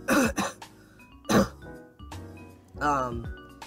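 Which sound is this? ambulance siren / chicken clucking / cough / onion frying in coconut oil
cough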